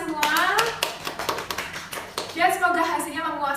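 Students at a student council candidate event at SMKN 10 Surabaya clap in short, scattered bursts, the sharp claps mixed in with voices talking nearby.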